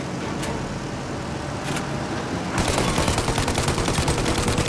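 Sustained automatic gunfire from a Mafia shootout aimed at a plane's engines, starting over a steady roaring hum and then erupting into loud, continuous rapid bursts for the last couple of seconds.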